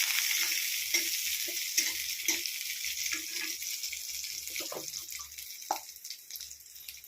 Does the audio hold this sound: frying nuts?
yes